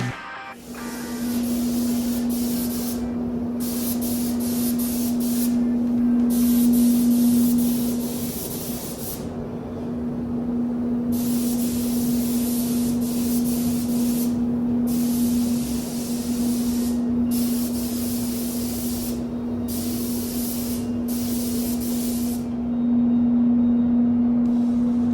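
A spray gun hisses in long steady bursts, broken by short pauses, as anthracite paint goes onto a 1968 Porsche 911 gearbox and fan over epoxy primer, with a constant low compressor hum underneath throughout.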